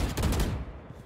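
Shotgun fire in a PC first-person shooter, a loud close blast with a booming low tail that decays over about a second.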